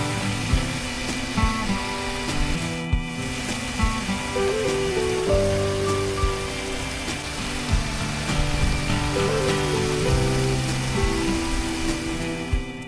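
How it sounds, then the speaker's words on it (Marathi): Steady rain hisses down over a public garden, the Pu La Deshpande Garden in Pune, as a soft, even wash that runs the whole time beneath prominent tonal music. "पाऊस सुरू झाल्यामुळे सगळे या आडोशाला थांबलेले आहेत"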